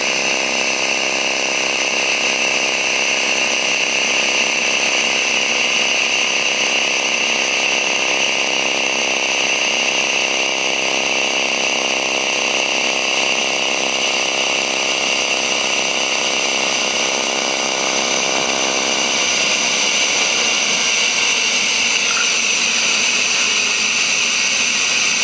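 A pulse TIG welding arc running with changed settings gives off a steady, loud electric buzz with a constant tonal hum that continues without break for the full length, and no one speaks.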